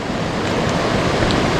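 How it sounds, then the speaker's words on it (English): Swift creek water rushing steadily at a trout club stream in Pennsylvania, a continuous broadband roar close to the microphone with no speech over it. "The water is still super swift."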